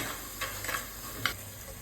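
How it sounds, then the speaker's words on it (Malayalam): Ground tomato goes into a sizzling snakehead fish curry in a pan, with a steady low frying hiss and a few soft stirring scrapes and clinks. "ഇതിലോട്ട് ഈ തക്കാളി അരച്ചത് കൂടി ഒഴിച്ചു കൊടുക്കാം."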